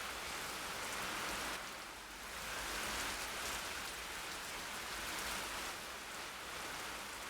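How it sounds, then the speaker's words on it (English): Steady rain falls in Minecraft, a continuous even hiss of drops that swells and dips slightly across the whole stretch, with no voices or other sounds over it. "When is the last time it has rained in this world?"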